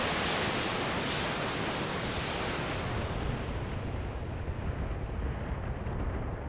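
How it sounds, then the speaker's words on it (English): Mech weapons firing on an enemy Centurion mech in the Battletech video game, heard as a loud, continuous roaring blast of noise that holds steady throughout with no pauses. "I think I'll continue firing on the Centurion for now."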